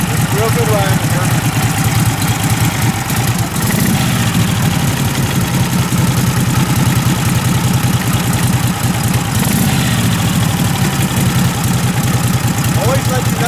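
A stock 1947 Harley-Davidson EL Knucklehead engine idles while warming up, loud and close, with a steady loping, rhythmic chug and a couple of slight swells in intensity, and a voice is heard over it.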